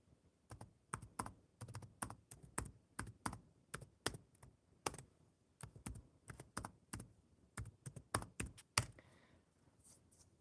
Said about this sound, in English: Let's type hello in the chat.